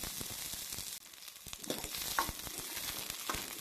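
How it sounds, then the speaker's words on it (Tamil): Onions fry in a ladleful of oil for a cauliflower gravy, giving a faint, steady sizzle with small crackles throughout and no talking. "எண்ணெயில் வெங்காயம் நல்லா வதங்கணுங்க"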